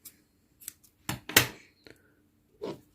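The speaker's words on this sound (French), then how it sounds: "Et je vais couper le fil." Scissors snip through crochet yarn in several short, crisp cuts with small gaps between them, close and clear with no voices.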